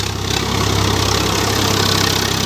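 A Swaraj 855 tractor engine running steadily, a loud, close, low diesel chug with an even rhythmic knock that continues unbroken throughout, with no talk over it.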